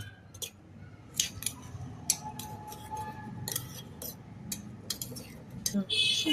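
Sweetcorn kernels being stirred with salt, chili powder and chaat masala in a bowl: a spoon scrapes and clinks against the dish in irregular taps and bursts, fairly close but quiet.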